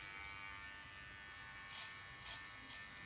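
Electric hair clipper opened to the 0.8 millimeter setting, cutting hair for a bald fade, a steady close buzz with a few brief brighter bursts as the blade passes through hair.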